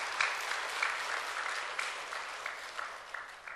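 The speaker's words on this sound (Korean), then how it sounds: "우리 하나님께 영광의 박수로 돌리겠습니다." Church congregation giving a round of applause in worship, many hands clapping in a continuous, dense wash at steady loudness, with a few sharper claps standing out.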